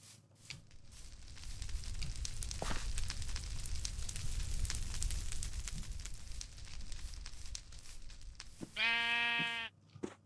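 Sheep bleating in modded Minecraft: a single loud, buzzy, harmonic bleat near the end, preceded by a long stretch of crackling fire noise and scattered ticks.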